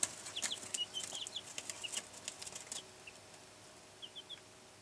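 Young chicks in a brooder box give faint, scattered high peeps in quick little bursts, with soft rustling underneath and a quiet pause before a few final chirps.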